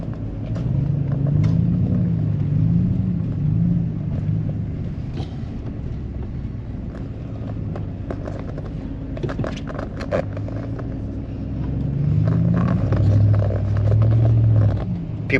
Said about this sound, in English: We got cars, we got semi-trucks, we got everything out here.